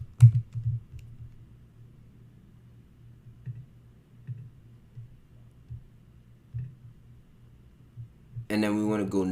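Keys on a computer keyboard tapped softly as a card number is entered, a scattered run of light, muffled clicks and thumps over a low hum, with a brief louder noise at the very end.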